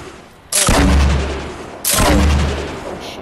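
RPG fire in a video game, with two loud, close blasts about a second and a half apart, each a sharp crack followed by a long, booming rumble that fades slowly.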